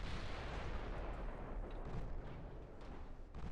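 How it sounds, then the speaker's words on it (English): Warship main guns fire in the naval battle game Ultimate Admiral Dreadnoughts, heavy booming blasts rolling into one another over a continuous low rumble, loud and dense with no speech. "Activate the main guns."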